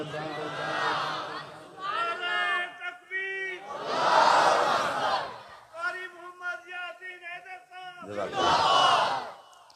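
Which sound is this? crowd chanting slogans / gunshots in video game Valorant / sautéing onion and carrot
crowd chanting slogans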